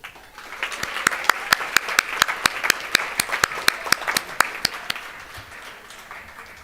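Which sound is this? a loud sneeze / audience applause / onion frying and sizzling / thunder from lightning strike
audience applause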